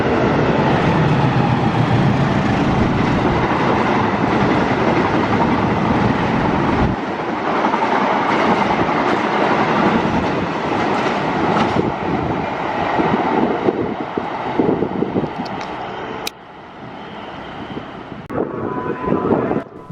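A long passenger train on the Kertajaya service roars past close by, its wagons rumbling with clickety-clack over the rails and wind buffeting the microphone, then the noise thins and recedes toward the end.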